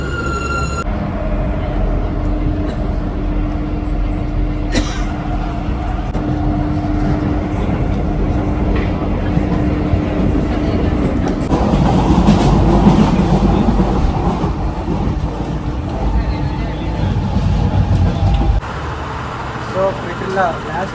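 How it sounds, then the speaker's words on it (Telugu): A Paris metro train arrives and rides on, with a loud continuous rumble, rattling carriages and a brief squeal, while a voice talks over the rolling noise. "ట్రైన్ అయితే వచ్చేసింది కరెక్ట్ టైంకి."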